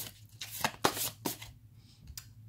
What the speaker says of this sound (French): je tire une carte pour vous